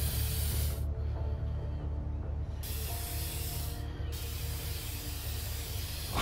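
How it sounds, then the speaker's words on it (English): Spray effect in the inFAMOUS Second Son video game, a dense continuous hiss that runs for several seconds at steady loudness, broken by brief gaps, over a low rumbling game soundtrack. "Why am I spraying here?"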